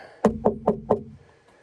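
Four quick knocks on wood, evenly spaced and close, sharp and distinct against a quiet background, followed by silence; heard during a garage build with rafters going in.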